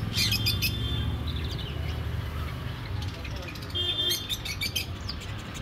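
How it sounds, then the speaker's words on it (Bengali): Colourful budgerigars in a pet shop chirp in repeated bursts of high tweets over a steady, dense background rumble. "আর নিচে দেখতে পাচ্ছি বাজিগার, খুব সুন্দর সুন্দর কালারফুল বাজিগার দেখতে পাচ্ছি আমরা।"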